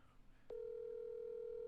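Telephone dial tone sound effect: after a brief quiet moment, a loud steady continuous hum starts abruptly and holds unbroken to the end.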